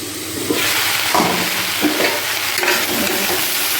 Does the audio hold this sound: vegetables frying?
yes